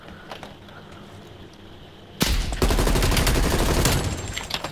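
Gunfire in Call of Duty: Black Ops Cold War: quiet game ambience with faint clicks gives way abruptly to a loud, sustained burst of rapid automatic shots and crackling impacts lasting over two seconds.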